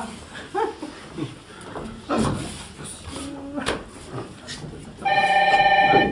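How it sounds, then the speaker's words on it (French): A telephone bell starts ringing near the end, loud and continuous, after scattered knocks and indoor bumps. "Et téléphone."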